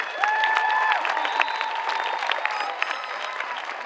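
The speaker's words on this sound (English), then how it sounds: "Please give all of these students a round of applause" An audience claps steadily for honor graduates at a high school graduation, a dense, even round of applause with a few whistle-like tones and murmurs mixed in.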